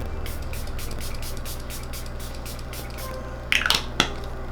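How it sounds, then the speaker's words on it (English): A watermelon facial mist spray bottle gives a few quick sprays near the end, short crisp hisses over a steady background hum and soft rhythmic rustling. "so next I usually go in with my watermelon spray."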